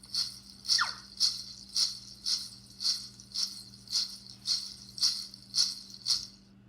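A worn rattle shakes in a steady rhythm, about a dozen crisp, bright bursts evenly spaced, with a low hum underneath.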